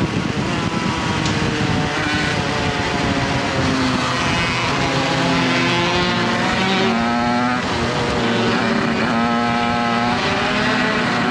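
Loud, continuous engine drone of 80cc shifter karts racing on a track, close and high-revving with pitch rising and falling through gear changes and corners, no talking.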